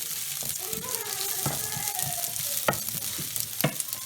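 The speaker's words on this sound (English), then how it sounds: "make sure you don't reduce the heat. Put it in high flame. And just toss your onions" Cubed red onion and green chilies stir-fry in a wok over a high flame, with a bright continuous sizzle and sharp clacks of utensil tosses, close up; faint voices sit in the background.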